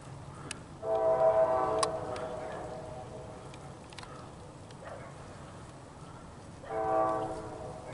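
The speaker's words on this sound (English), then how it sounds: "4NS train's coming" A distant Norfolk Southern freight train approaching, sounding two separate horn blasts over a low rumble, with faint ticking between; quiet and far off.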